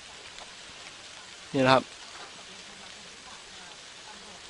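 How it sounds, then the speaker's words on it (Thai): An automatic plant-watering sprinkler sprays water in a steady, even hiss throughout. Someone speaks briefly over it partway through. "ตอนนี้สปริงเกอร์ก็ทำงานอีกครั้งนะครับ"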